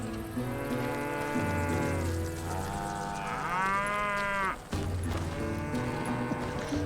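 A cow in the western video game Call of Juarez Gunslinger lets out several long, loud, drawn-out moos in succession, close by, with a brief pause between calls.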